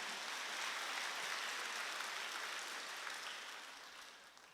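Congregation clapping together during a Korean church Wednesday worship service, a dense, steady wash of applause from a crowd that holds for several seconds, then gradually thins and fades toward the end.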